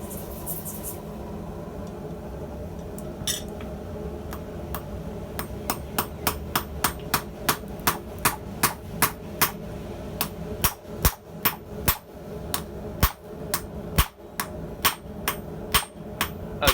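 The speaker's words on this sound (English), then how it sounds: "I have a tendency to pull on my hammer strokes like this, and so when I start a rivet, I intentionally push forward a little bit." Hammer blows strike a hot rivet while heading it on handled blacksmith tongs, a run of sharp metallic clanks that settles into a steady, evenly spaced rhythm, loud and close, with no talking.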